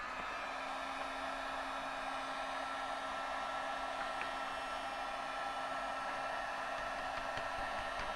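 A heat tool blows steadily over a rubber stamping craft project, a constant airy whirring hiss with a faint tonal hum, moderately quiet and unbroken.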